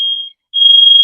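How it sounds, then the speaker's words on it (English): Loud piercing fire alarm beeps nearby, one long tone, a short gap, then another sustained pulsing tone, with no talk. "a fire alarm"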